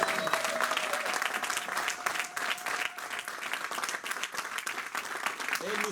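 Church congregation clapping and cheering at a sermon, a loud, dense roar of applause with scattered shouts mixed in, sustained and near throughout.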